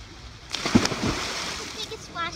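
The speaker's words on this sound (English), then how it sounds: "The biggest splash ever." A person jumps into a swimming pool with a big splash, a sharp watery crash followed by sloshing and churning water, with voices nearby.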